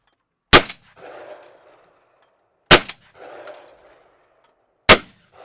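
A Benelli shotgun fires at clay pigeons outdoors: three loud, sharp blasts evenly spaced about two seconds apart, each followed by a short fading echo, no talk between shots.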